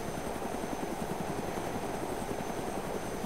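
Helicopter in the video game DayZ flying nearby, a steady loud rotor drone with a dense low chop that holds without a break.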